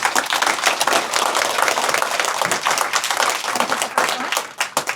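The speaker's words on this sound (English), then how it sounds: "Please give them a round of applause." City Hall staff receive a round of applause at a city appreciation dinner in Jefferson, Wisconsin: loud, dense clapping from the room, sustained and even for several seconds.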